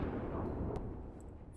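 Low, rumbling explosions from the story of the video game Girls Frontline, a muffled roar at moderate loudness with a sharper crack in the middle, followed by faint high pops and tinks as the rumble tails off.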